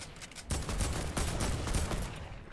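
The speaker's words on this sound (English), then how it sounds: "shooting to our left" Rapid gunfire from a video game match, a dense burst of overlapping shots and automatic fire that starts abruptly and rattles on steadily at mid distance with no talk over it.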